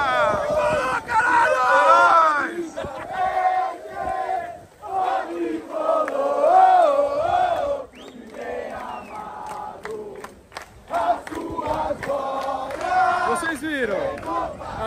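São Paulo supporters in the stands at a rainy, windy stadium match against Santo André chant and sing loudly as a massed crowd, with the voices swelling and dipping and brief shouts breaking through the steady roar.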